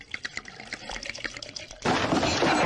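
Hot water pouring into a sink, a sudden loud rushing splash after a quieter stretch of small clinks and handling noises, close by.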